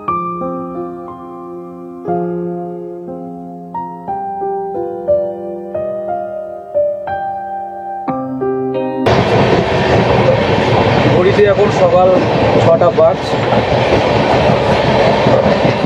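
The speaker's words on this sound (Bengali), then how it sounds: "মোটামুটি ট্রেনের জার্নিটা খারাপ হয়নি" A passenger train on the Kolkata to New Jalpaiguri route (02517 Kolkata–Guwahati) opens with steady tonal notes, then becomes a loud, close, continuous rolling rumble of wheels on rails, with a voice speaking briefly.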